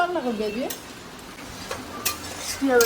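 Spices and crabs from Digha fry in a pan while being stirred, giving a soft sizzle with scraping, clinking stirring strokes. A brief voice-like tone opens the clip, and the frying stays moderately close and fairly quiet.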